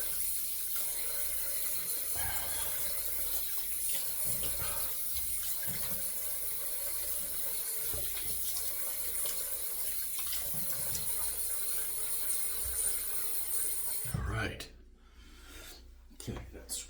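Tap water runs steadily into a sink at close range while a Kamasori shavette razor is rinsed, a continuous hiss lasting about fourteen seconds before the tap shuts off, followed by a few handling knocks.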